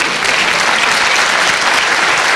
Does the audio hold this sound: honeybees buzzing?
no